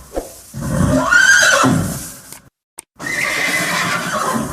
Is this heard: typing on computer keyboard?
no